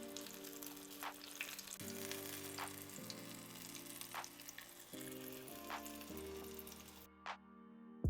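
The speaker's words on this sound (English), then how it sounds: "We are done frying the chiles." Chiles rellenos frying in hot oil, a steady close sizzle and crackle with occasional spatter pops, running alone without talk throughout.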